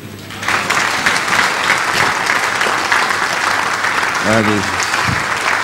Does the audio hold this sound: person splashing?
no